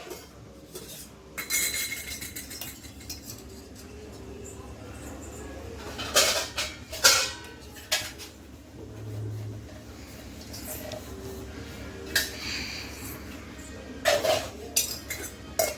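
Pan and metal utensils clink and clatter on a gas stove as ghee is spread for bread pizza, with several sharp knocks scattered irregularly through the clip and a steady low hum beneath.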